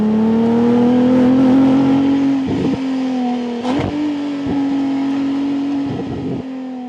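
Ferrari 296 Speciale engine on the move, a steady loud drone with sharp overrun cracks and hollow thunderous rumbles popping through after lifting off the throttle.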